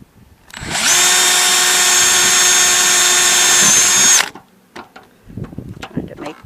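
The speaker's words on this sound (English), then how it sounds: "I get to use the power drill" A power drill runs loud and steady for about three seconds, whining at high speed while drilling holes during an RV vent fan replacement, then stops, followed by scattered clicks and handling sounds.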